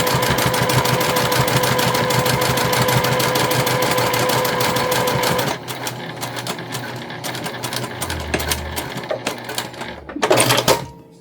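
A sewing machine stitches the handles of a cotton tote bag in a fast, steady, loud whir for several seconds, then slows into uneven bursts of stitching with a short clatter near the end; nobody speaks.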